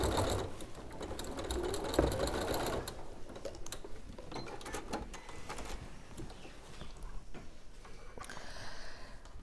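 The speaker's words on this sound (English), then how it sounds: "we're just going to machine tack it across within the seam allowance" A sewing machine runs steadily to tack quilted jacket fabric within the seam allowance, a close, continuous mechanical whirr with fast needle ticking and no talk.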